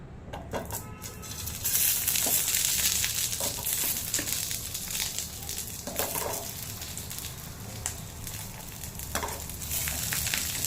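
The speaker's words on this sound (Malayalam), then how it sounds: "നമുക്ക് ഈ പാത്രത്തിൽ തന്നെ കുറച്ചുകൂടി എണ്ണ ഇട്ടിട്ട് ഈ വഴുതനങ്ങയൊക്കെ ഒന്ന് നന്നായിട്ട് റോസ്റ്റ് ചെയ്തെടുക്കാം" Brinjal roasting in oil in a pan gives a loud, continuous sizzle close by, broken by irregular spatula scrapes and stirring taps, and no voices are heard.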